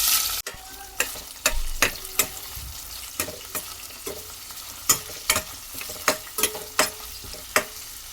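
Onions sizzle in hot oil in a kadai while a spoon scrapes and stirs the pan, with sharp repeated clinks over a steady low frying hiss, close and fairly quiet.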